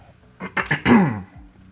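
A single throat clearing, a few short rough bursts building into a longer gravelly rasp, close and fairly loud, then quiet.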